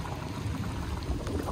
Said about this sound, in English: Now it's freaking pouring rain.